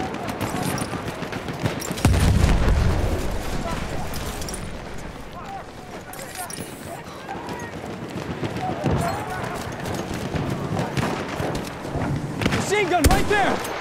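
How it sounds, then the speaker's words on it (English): Machine gun and artillery fire in the video game Battlefield 1, a chaotic battlefield with rattling bursts and heavy thuds rolling under frequent shouting voices, loud and continuous throughout. "Machine gun right there!"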